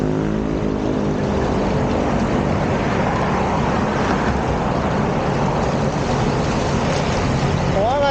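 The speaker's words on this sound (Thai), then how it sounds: "เดี๋ยวผมให้ดูน้ำตกจำลองใหม่" An artificial roadside waterfall on Thian Ruam Mit Road, outside the Korean embassy in Bangkok, roars as a loud, steady wash of falling water, dense and unbroken throughout, with faint traffic possible beneath it.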